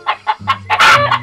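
A chicken clucks in a quick series of short, close, fairly loud calls, the bursts building into a denser squawk near the middle before one more cluck at the end.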